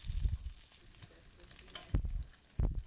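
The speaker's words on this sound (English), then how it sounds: "now we are putting our garlic in" Garlic frying in a pan over medium heat, a soft sizzle with a few louder bursts of crackle as it is stirred, fairly close and short.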